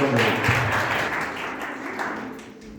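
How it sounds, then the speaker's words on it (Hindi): Women's Day gathering audience applauding themselves after a performance, a steady wash of clapping over about three seconds that tapers slightly, with faint voices mixed in. "एक बार अपने लिए ताली बजा दीजिए"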